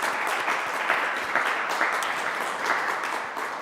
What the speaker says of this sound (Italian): E li ringraziamo anche con un applauso, entrambi.